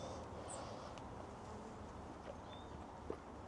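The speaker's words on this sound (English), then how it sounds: "Lots of bees, all nice and calm." A dense, steady hum of many honeybees buzzing close by in a hive, calm and continuous, with no voices.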